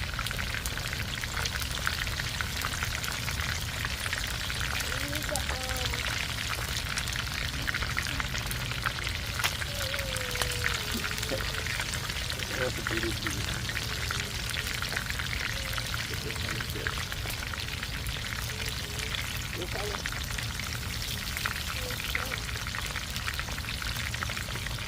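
Parboiled rice poured into a pot while cooking Jamaican rice and peas, a continuous grainy rattle and hiss like rain that holds steady and fairly loud throughout, with faint talk underneath.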